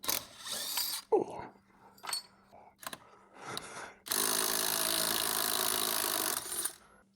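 Removing the three bolts holding the recoil starter on a Ski-Doo XP snowmobile engine, with short metallic clicks and scrapes of tools on bolts, then a sustained loud whirring burst like a power driver running for about three seconds.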